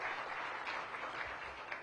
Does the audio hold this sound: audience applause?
yes